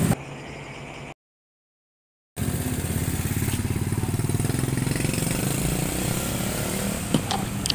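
Honda Astrea Grand motorcycle engine running steadily close by after a brief gap, a buzzing putter as it pulls away on a test ride, with a couple of faint clicks near the end.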